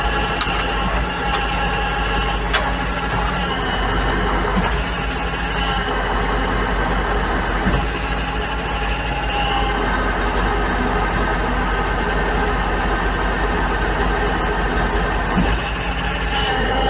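A 35-year-old T-16 tractor, built as a self-propelled chassis carrying an aerial lift, idles steadily throughout with a continuous low mechanical drone and light knocking, loud and close, with no voices.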